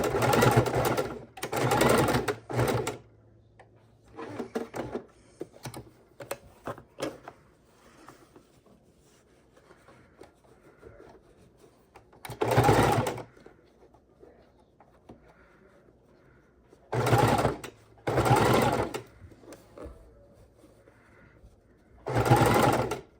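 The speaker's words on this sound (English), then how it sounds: "So we're just going to stitch this all the way around." Sewing machine stitching around a paper-craft junk journal cover, running in about half a dozen loud bursts of rapid whirring separated by pauses with small handling clicks and rustles.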